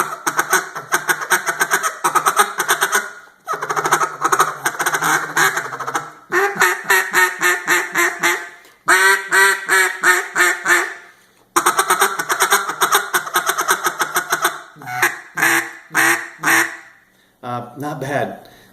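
A Buck Gardner duck call blown up close in loud, repeated bursts of raspy quacks, with short pauses between the runs of calls.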